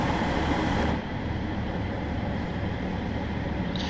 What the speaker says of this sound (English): Wait for the train, here it is.